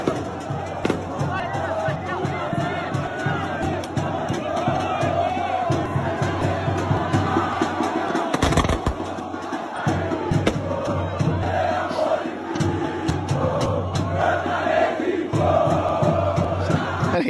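Vasco da Gama supporters of the Força Jovem group chant and roar inside an airport, a loud dense crowd singing in rhythm with whoops and shouts, echoing around the hall throughout.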